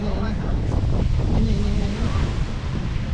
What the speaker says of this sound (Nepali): यहाँ पानीको छाल आउँछ अनि हामी छुनुपर्छ